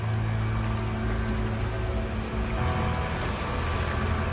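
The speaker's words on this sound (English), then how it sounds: "Planets have wind patterns, waves are dynamic, and they react to the weather." Dynamic ocean waves in the No Man's Sky video game, a loud continuous wash of surf and wind with a low rumbling undertone and no pauses.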